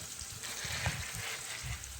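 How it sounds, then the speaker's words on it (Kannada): Onions and curry leaves frying in a pan, a steady soft sizzle with faint stirring scrapes, close and even throughout, no talking. "ಈರುಳ್ಳಿ, ಕರಿಬೇವು ಹಾಕ್ಕೊಂಡು ಎಲ್ಲ ಸ್ವಲ್ಪ ಫ್ರೈ ಮಾಡ್ಕೋಬೇಕು"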